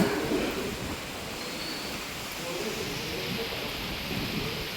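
Rain pours steadily around a small roadside tiffin shop, a dense and even hiss that stays fairly loud throughout with no voices.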